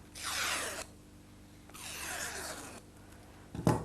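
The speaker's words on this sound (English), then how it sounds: "just run your scissors down them like that" Two long smooth swishes of a scissor blade sliding along ribbon to curl streamers, followed by a brief sharp rustle at the end; quiet, close, no voices.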